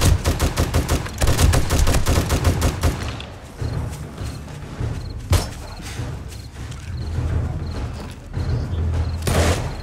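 Rapid bursts of gunfire in 7 Days to Die during a Darkness Falls blood moon, loud automatic shots in quick succession at first, then scattered single shots over a rumbling background.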